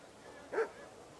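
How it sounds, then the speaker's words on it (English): A single short dog bark rings out in Kingdom Come: Deliverance II, faint and somewhat distant against a quiet background. "Why is it barking so much?"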